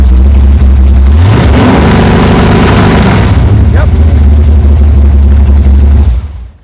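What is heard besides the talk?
car engine revving to 3000 RPM on MSD two-step limiter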